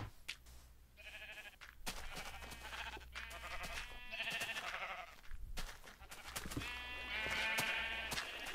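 Sheep in Minecraft bleating several times in a row, clear and fairly close, each call a wavering, nasal baa with short gaps between them.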